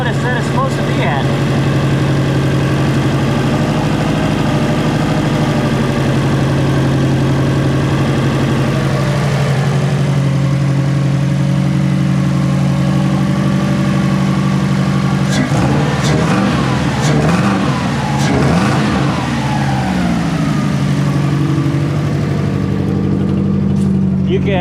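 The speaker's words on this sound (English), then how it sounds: "you can hear the exhaust leak" A car engine with an exhaust leak idles with a loud, steady low drone, then is revved several times with sharp rises and falls in pitch, and a voice speaks intermittently over it.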